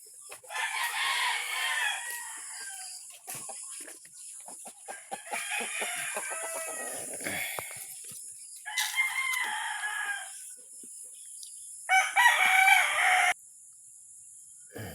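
A rooster crows loudly several times close by, with clucking between the crows and brief quiet gaps.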